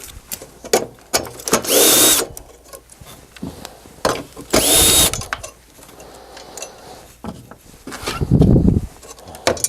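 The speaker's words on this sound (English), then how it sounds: "using a 5/16 nut driver, we're going to remove the 2 P-clamps from the bracket" A powered 5/16 nut driver backs the fasteners out of two P-clamps on a bracket of a Phoenix DryMAX XL blower, in several short whirring bursts mixed with clicks and the rattle of handled metal parts, close up.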